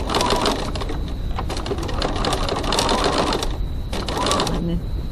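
A sewing machine stitches a crossbody bag with a zipper foot, running in a steady fast whir and rattle for several seconds with only brief pauses, loud and close, while a voice talks over it.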